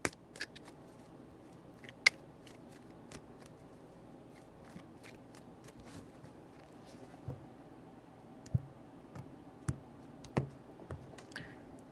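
Tarot cards being shuffled by hand, a run of short papery riffles and taps, close and quiet, with irregular clicks spread across the stretch and no talking.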